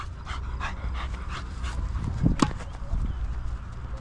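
A dog pants heavily after playing with tennis balls outdoors, with quick, close breaths running through the clip alongside scuffs and a few sharp knocks.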